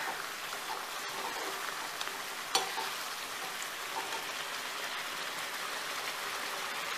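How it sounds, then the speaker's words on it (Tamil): Mushrooms going into a pan of simmering mushroom gravy, oil separating at the edges, give a steady soft crackling sizzle throughout, with one brief sharper clack partway through and no talking. "இப்போ இந்த ஸ்டேஜில் மஷ்ரூமை போட்டுக்கலாம்."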